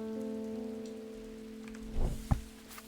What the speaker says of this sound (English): Okay, so it is raining outside.